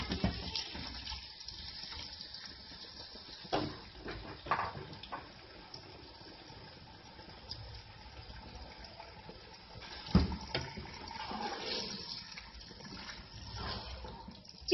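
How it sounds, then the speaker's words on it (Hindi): Two kilos of chicken fry in two cups of oil in a karahi pan, producing a faint, continuous sizzling hiss with a few louder spits and pops, and no talking. "दो किलो चिकन में हम 2 प्याली ऑयल की डालेंगे और इसको अच्छी तरह फ्राई करेंगे।"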